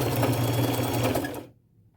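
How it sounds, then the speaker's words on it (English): A sewing machine runs a zigzag stitch along fabric just beneath a small collar piece, a steady close whirring hum lasting about a second and a half before cutting off into near silence. "I am going to sew it right underneath this little collar piece right along here with my zigzag stitch"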